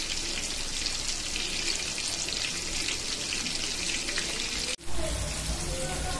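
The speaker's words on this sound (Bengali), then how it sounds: "এদিকে আমি রুই মাছগুলো ভেজে নিচ্ছি তেলে" Rohu fish pieces frying in hot oil, a dense, steady sizzle and crackle filling the whole stretch, broken by one brief sharp dip and clatter near the end before the sizzling resumes.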